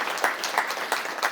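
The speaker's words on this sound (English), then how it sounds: "Can we get a round of applause," Audience applause mixed with finger snaps at an HIV stigma summit's closing session, a thin smattering of claps with a few sharper bursts recurring in an uneven rhythm over a short stretch.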